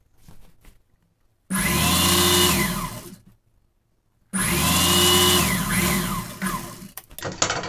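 A tailor's sewing machine stitches the fabric of a pinafore in two sustained motor runs separated by a pause, close and fairly loud, with faint clicks before and after.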